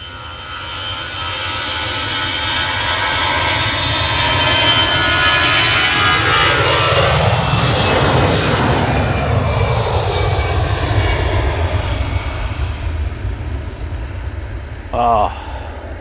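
An EasyJet jet airliner takes off at Manchester Airport, its engine roar swelling to a loud, broad rush that peaks midway and slowly fades as it climbs away, with a brief voice near the end.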